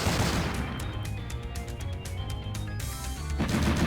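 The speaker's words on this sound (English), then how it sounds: "We're really just repeatedly shooting each other with rifles until one of us dies" Rifle gunfire in the video game Metal Saga, dense rapid shots and impacts in a steady close barrage, with a louder burst at the end, no talking.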